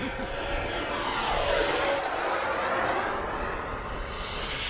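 An E-Flite SU-30 twin 70mm EDF model jet takes off from a runway, its ducted fans giving a loud high-pitched whine that swells and then eases off as it climbs away.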